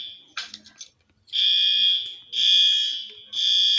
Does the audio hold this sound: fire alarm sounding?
yes